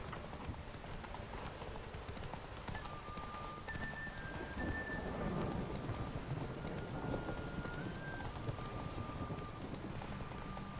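A horse gallops in the video game The Witcher 3, with a steady, continuous patter of hooves running through the whole stretch and faint tonal game sounds above it.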